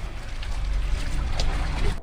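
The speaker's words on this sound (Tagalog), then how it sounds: "Lakas na alon." Strong sea waves rolling in at Balut Island, Davao Occidental, a steady broad wash of surf and churning water near a stairway, continuous and fairly loud for the whole stretch.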